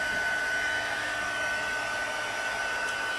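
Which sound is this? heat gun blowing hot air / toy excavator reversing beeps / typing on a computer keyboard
heat gun blowing hot air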